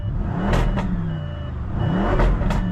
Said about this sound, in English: let's see if I can rev this thing up